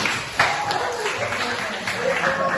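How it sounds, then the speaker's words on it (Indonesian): A class of high school students applauds together during a classroom guidance lesson, producing a dense, steady patter of clapping at moderate loudness that carries through the whole short stretch. "Tepuk tangan untuk Samuel."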